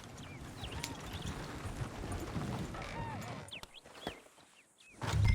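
Horse hooves clip-clop at a steady walking pace in the western game Red Dead Redemption 2, moderately near over an outdoor ambience with birdsong chirps, fading to quiet before a louder rustle at the end.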